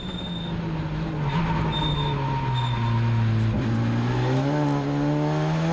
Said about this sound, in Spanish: Escuchen el ruido del piso.